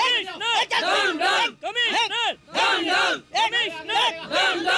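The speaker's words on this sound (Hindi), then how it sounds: "सर बाहर भीड़ बढ़ती जा रही है," An angry crowd shouts and roars outside in a Hindi-dubbed South Indian film scene, many voices overlapping in loud, surging waves of yelling with brief dips between them.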